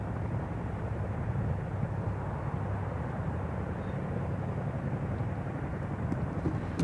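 Chinook helicopters fly during an Indian Air Force exercise, heard as a continuous broad rumbling roar with a steady low throb, fairly distant and unbroken.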